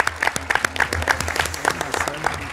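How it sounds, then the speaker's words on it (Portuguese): An audience at a round-table event gives a short burst of dense, close applause with steady clapping throughout. "Uma salva de palmas para o Rogério."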